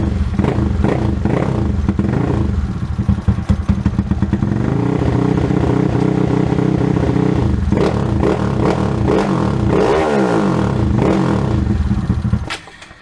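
A motorcycle engine with an Aracer Mini tune, still warming up, runs at a loud, steady idle. It is revved once mid-way, and the pitch sweeps up and back before the engine cuts near the end.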